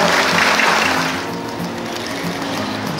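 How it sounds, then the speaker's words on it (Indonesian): An audience claps at a symbolic diploma handover ceremony, a dense, steady wash of applause that stays loud and then eases slightly toward the end. "Boleh sekali lagi kasih tepuk tangan yang meriah"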